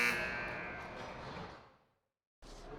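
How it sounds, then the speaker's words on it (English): A long, loud electronic horn buzzer sounds in an ice hockey arena at the end of a high-school period, holding steadily for almost two seconds and then fading out before crowd noise returns. "We get the buzzer."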